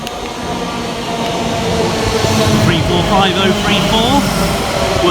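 A nine-coach Elizabeth line class 345 electric train, unit 345034, stands at a station platform with a steady, loud rumble and hiss under a station announcement voice.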